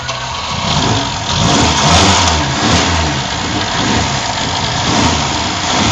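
A tuned Lada Zhiguli 2101 engine rumbles up close and loud, revving in repeated swells over a rough idle.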